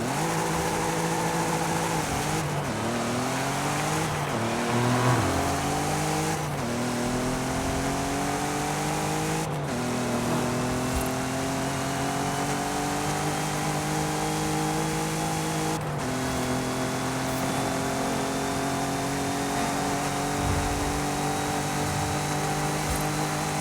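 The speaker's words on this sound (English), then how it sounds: "my 1992 Golf Mark II GTI, which is absolutely freaking awesome" A 1992 Volkswagen Golf Mk II GTI driven in Forza Horizon 5, its engine revving up through repeated gear changes, each pull climbing in pitch then dropping, steady and close with no talk.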